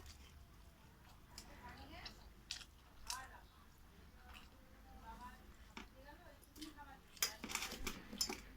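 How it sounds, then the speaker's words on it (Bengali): Close, wet chewing and biting sounds of fried bitter gourd with potato, with occasional crunches, repeated at an irregular pace over a low background hum. "উচ্ছে আলুটা আগে ভাজাটা খেয়ে নিই।"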